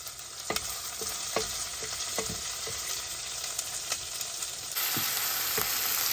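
Onions sauté with turmeric in a clay pot, giving a bright, continuous sizzle broken by sharp clicks and scrapes of a spoon against the pot.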